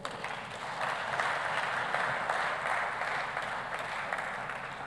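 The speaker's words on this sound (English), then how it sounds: "Give her another round of applause, ladies and gentlemen" Audience applause at a closing ceremony and deal room session, a steady wash of many hands clapping throughout, fairly loud and even, with no voices over it.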